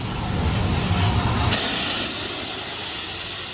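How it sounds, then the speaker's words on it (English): A steam train passes Country Park Halt on the Severn Valley Line with a steady loud hiss of steam and rumble, swelling then easing after about a second and a half, with no voices. "I did make a stop at Country Park Halt and got to see a steam train pass by."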